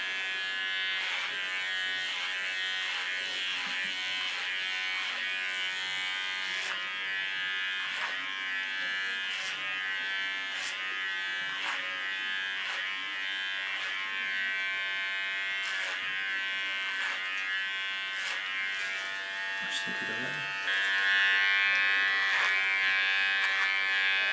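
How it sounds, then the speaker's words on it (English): Electric hair clipper cutting short hair on the sides of a woman's head at a hairdresser's, a continuous close buzz with small shifts in pitch as it moves through the hair. "I'm gonna make the sides clipper short, but still hold it in the line."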